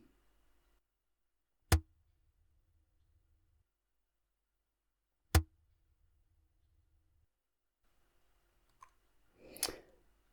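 Two sharp impulse clicks, a few seconds apart, each trailed by a short ringing reverberation of about 0.3 seconds inside the uunikivi (oven rock) tafoni, a rock cavity in Finland; faint shuffling noises follow.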